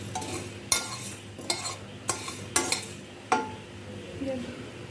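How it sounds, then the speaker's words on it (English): Whole spices being stirred as they roast dry in a pan for an Egyptian stuffed-rice dish, with a spoon giving about five sharp scraping knocks against the pan at a steady pace, close up over a soft background hiss. "I should continuously stir them just to make sure they don't get burnt"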